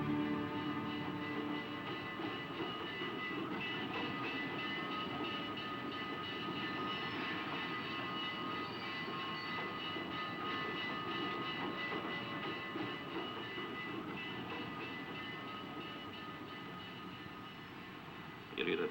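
A train passes in a classic film-noir soundtrack, a steady, loud rumbling and clattering drone that holds evenly for the whole stretch, fading slightly toward the end, with no voices.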